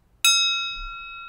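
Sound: tapping a crystal glass like a bell

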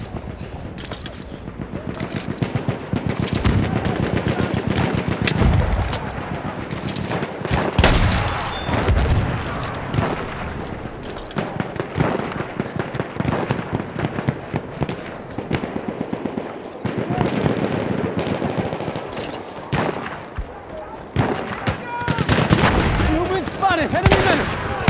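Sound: machine gun fire in the video game Battlefield 1

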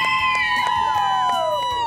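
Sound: crowd of beachgoers shouting and cheering

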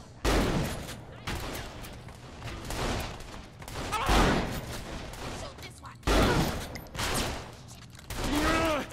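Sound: gunfire in the video game Saints Row The Third

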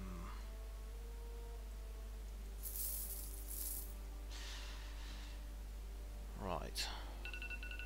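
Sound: mobile phone beeping

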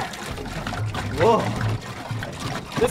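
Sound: water pouring into a truck tank

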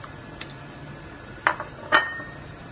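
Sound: meat being put into a cooking pot

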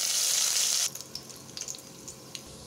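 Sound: mustard seeds spluttering in hot oil

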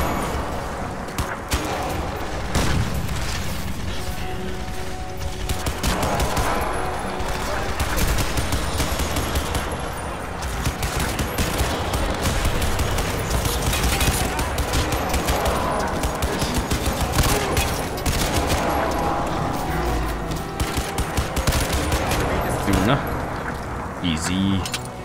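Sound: heavy machine gun firing in the video game Crysis 2 Remastered

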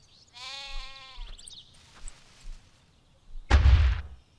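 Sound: cow mooing in video game Black & White

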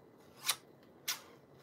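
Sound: giant pair of scissors cutting

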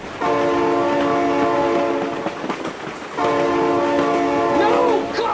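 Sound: train passing with horn in BeamNG.drive video game

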